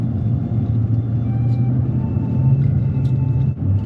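Low steady engine rumble and road noise fill a car cabin while driving, a constant close hum with a slight dip near the end.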